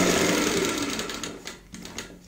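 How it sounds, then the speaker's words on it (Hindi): Sewing machine stitching a frill onto a cushion cover, a loud steady mechanical whirr that slows and breaks into short bursts of stitching near the end. "सिंपल आपने ऐसे फ्रिल को रखते जाना है और सिलाई लगाते जाना है"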